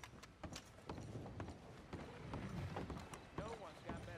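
In Red Dead Redemption 2, a horse's hooves clatter in a quick, steady clip-clop, mixed with other busy game sounds throughout.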